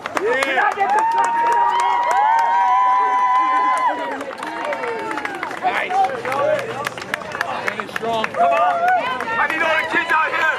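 A crowd claps in sharp, uneven bursts with scattered cheers, while loud voices shout and talk over the clapping throughout.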